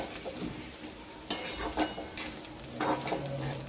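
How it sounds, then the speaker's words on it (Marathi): Tomato chutney with ground peanuts and garlic is stirred and sautéed in a pan, giving repeated scraping spoon strokes over a soft sizzle, with no talking. "याला पण छान परतून घ्यायचं आहे."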